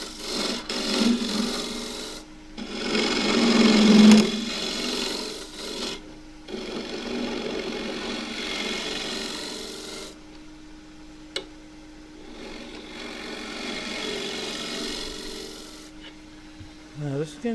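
A wood lathe spins a small bowl of green casuarina while a turning tool cuts it in bursts of raspy shaving, alternating with quieter stretches of the lathe's running hum, and someone talks in between.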